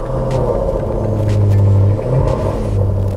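A Jaguar F-type's 5-litre supercharged V8 idles on a cold start, a loud, close, deep rumble that swells briefly midway and then settles back to a steady burble.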